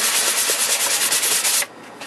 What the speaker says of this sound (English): basically what we want to do is just rough up the surface so the primer sticks